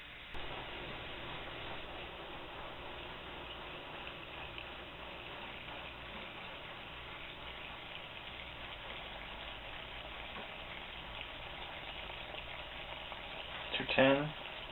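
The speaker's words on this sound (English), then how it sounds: "I can actually hear it boiling now too" Water boils on a homemade alcohol camp stove built from a fence post, a steady, soft bubbling hiss that continues evenly before a brief clatter near the end.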